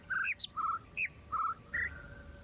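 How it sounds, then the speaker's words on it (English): Bird calls in The Witness video game sound puzzle: a series of about six clear, short chirps and whistles, some rising and some steady, spaced in a quick rhythm over a quiet ambient background. "wait patiently for some clear bird noises to come through"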